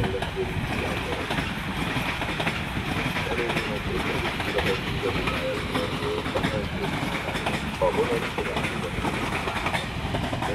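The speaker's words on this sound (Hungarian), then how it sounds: "Személyvonat érkezik Budapest nyugati pályaudvarról az első vágányra." A passenger train arriving at a Budapest station rumbles steadily along the rails with a broad, continuous noise throughout, while voices murmur faintly in the background.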